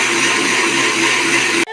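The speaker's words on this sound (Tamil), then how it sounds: "தேங்காய் 1/4 மூடி போட்டிருக்கிறேன், 10 பல்லு பூண்டு, மிளகு, சோம்பு, இதை போய் நம்ம அரைச்சிட்டு வந்துடலாம்." A mixer grinder whirs loudly and steadily, grinding coconut, garlic cloves, black pepper and fennel seeds, then cuts off abruptly near the end.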